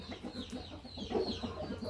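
A young Burmese rooster gives a quick run of repeated short clucks, close and fairly soft, in an even rhythm with no talking.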